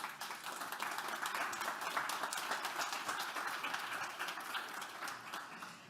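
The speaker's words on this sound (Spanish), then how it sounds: "para empezar, un aplauso," Audience applause welcoming panelists at a Spanish Red Cross humanitarian conversations summit, a continuous, even crowd of clapping hands heard at a moderate distance, without speech.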